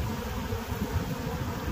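Korean native honeybees at a queenless hive fan their wings, a dense, continuous close-up buzz that holds steady and loud with no voices.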